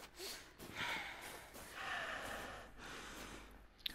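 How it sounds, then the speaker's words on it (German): Heavy panting breaths from a character in the horror game Kholat, a series of audible snorting inhales and gasping exhales at moderate, even loudness with no talk over them. "wenn der immer so schnauft manchmal"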